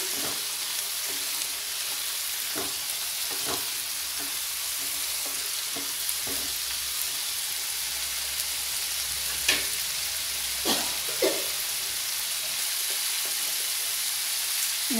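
Tomato frying in a pan with chayote curry, a steady soft sizzle running throughout with occasional clinks and stirring scrapes, no talking.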